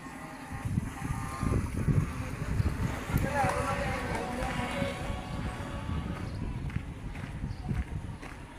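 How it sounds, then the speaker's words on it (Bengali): Wind blowing outdoors near Tongi College Gate, a steady, rushing roar buffeting the microphone throughout, fairly loud and close, with faint background sounds and no clear talking. "বাতাস হইতেছে অনেক সুন্দর।"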